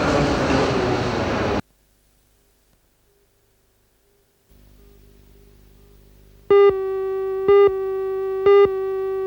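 Electric train at Newcastle Station: a low steady hum and rumble builds after a quiet pause, then three loud, clear two-tone horn blasts sound in a row, fairly close.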